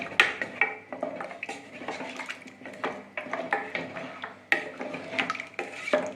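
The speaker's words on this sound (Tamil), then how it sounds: "எல்லாத்தையும் சேர்த்து ஒன்றா கிண்டி விடலாம்." A spoon scrapes and knocks around inside a pot of goat leg gravy in a steady, uneven rhythm of soft clatters and wet stirring, close by.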